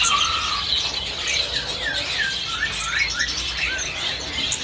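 White starling in a bird kiosk calling with a series of short rising and falling whistled notes, repeated several times at moderate distance over steady background hiss.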